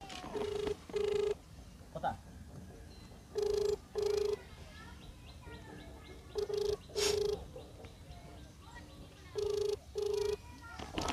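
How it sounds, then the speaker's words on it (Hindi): A phone call placed to a daughter rings out as a repeating double-pulse ringback tone, several evenly spaced pairs of beeps over a faint, noisy background. "रिंग किया जा रहा है बेटी के पास फ़ोन किया जा रहा है"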